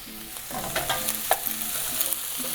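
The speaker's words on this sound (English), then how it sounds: "So we're gonna toast these vegetables up, like so." Vegetables toast and sizzle in a pan for a seafood stew, a steady soft frying hiss with light stirring scrapes, close and moderately quiet, with no talking.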